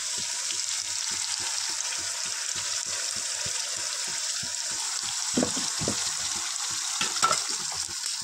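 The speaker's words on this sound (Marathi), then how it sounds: "आता ह्याच्यामध्ये ना आपण हे जे केलेलं वाटण आहे ना, सर्व हे वाटण टाकायचं त्याच्यामध्ये।" Ground masala paste sizzles with browned onions in a pan, a steady close frying hiss with a regular rhythm of stirring scrapes and a few louder sputters near the end, with no talking.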